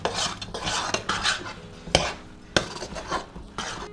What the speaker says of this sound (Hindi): तो हम लगातार करछी चलाते जाएंगे।